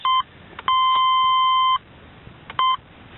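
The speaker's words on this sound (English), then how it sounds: "See? It beeps." A GM door chime installed in a Jeep Grand Cherokee beeps close by: a short beep, a long sustained tone, then another short beep, steady and piercing with quiet gaps between.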